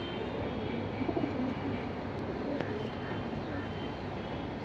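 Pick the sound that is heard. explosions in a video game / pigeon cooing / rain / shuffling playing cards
pigeon cooing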